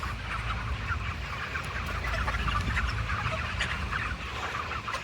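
Dense, continuous clucking from a large flock of chickens inside a poultry house, a steady loud wash of overlapping calls with no talk.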